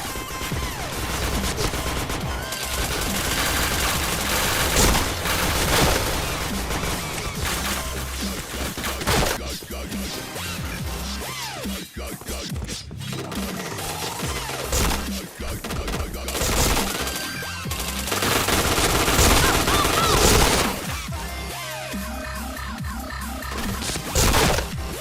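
Sustained video game gunfire rattles in dense, overlapping volleys and automatic bursts for the whole stretch, loud and continuous with brief lulls, while a voice talks faintly underneath.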